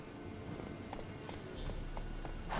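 Roach the horse gallops in The Witcher 3, hoofbeats landing in a steady clip-clop rhythm over a continuous outdoor background, moderately loud with a brief swell near the end.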